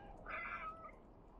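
A cat in the video game Stray lets out a single short meow, fairly faint and heard alone over a low, steady background.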